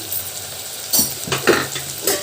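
Chilli powder is stirred into a taro root curry in a pan. Low simmering runs under a few loud spoon scrapes and knocks against the vessel, spaced about half a second apart, close and distinct.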